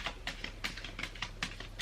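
A large tarot deck is shuffled in a quick series of crisp, papery card riffles and taps, close and fairly quiet, with an irregular rhythm of about a dozen soft snaps.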